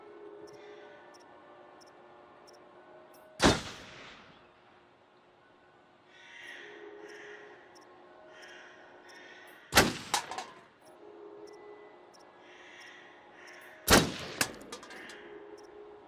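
Three sharp, loud rifle shots crack a few seconds apart at a shooting range in the video game Until Dawn, with quiet ambient noise and a short bit of talk between them.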